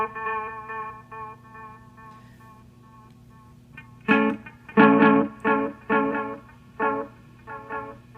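An electric guitar played through a TC Electronic Alter Ego V2 delay pedal set to dotted-eighth repeats: a sustained chord rings, then picked chords repeat in a rhythmic echo pattern, clear and close, with no talking.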